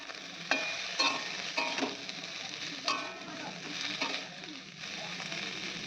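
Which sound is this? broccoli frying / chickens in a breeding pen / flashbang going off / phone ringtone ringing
broccoli frying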